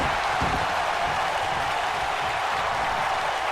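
An arena crowd in the WWE 2K wrestling video game roars and cheers as a dense, steady wash of noise at an even level throughout.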